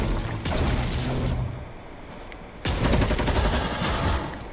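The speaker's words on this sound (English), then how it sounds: "No, just shooting this tree, because usually it has a chest in it." Rapid automatic gunfire in Fortnite aimed at a tree, two loud sustained bursts separated by a short quieter gap, with no voices over it.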